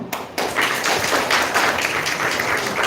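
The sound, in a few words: audience clapping at Women's Day felicitation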